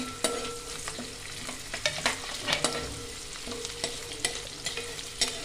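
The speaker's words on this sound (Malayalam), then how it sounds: "ഇഞ്ചിയും വെളുത്തുള്ളിയും നല്ലതായിട്ടൊന്ന് വഴറ്റി എടുക്കണം" Chopped ginger and garlic sauté in hot oil for a homemade pickle, sizzling steadily as a spoon scrapes and knocks against the pan in irregular strokes, close up with no talking.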